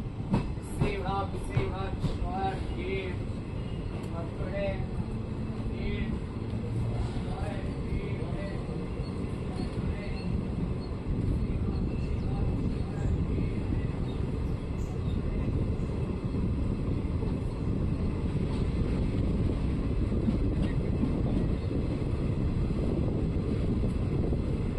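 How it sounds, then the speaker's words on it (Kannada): The Chamundi Express pulls out of Mandya station on the Mysore–Bangalore line, a steady rumble of wheels and carriages with faint voices and noise inside the moving coach. "2 ನಿಮಿಷ ಹಾಲ್ಟ್ ನಂತರ ನಮ್ಮ ಟ್ರೈನ್ ಮಂಡ್ಯದಿಂದ ಹೊರಟಿದೆ"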